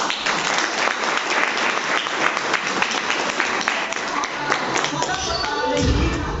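Audience applause at a seminar on chemical-free farming plans, a dense crackle of many hands clapping continuously for several seconds, fading with some low thumps near the end.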